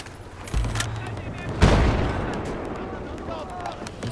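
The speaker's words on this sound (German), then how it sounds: "Jetzt kommt dieser komische Panzer mit seinen Geschossen hier." Tank cannon shells firing in the Battlefield 4 Shanghai campaign, two heavy booming blasts with long rumbling tails and scattered gunfire crackling around them, loud and fairly close.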